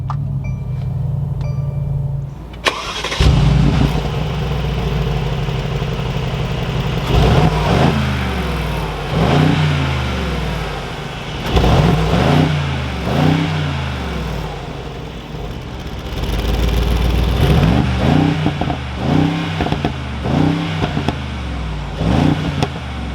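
A new Mercedes-Benz G63 AMG fires up with a loud starter crank and burst, then settles into a deep idle broken by several sharp throttle blips and revs, close and alone with no talk.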